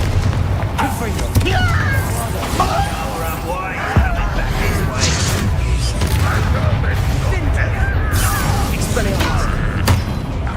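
Repeated Confringo blasting-spell explosions from the video game Hogwarts Legacy, booming thuds over a constant dense battle din with voices talking throughout.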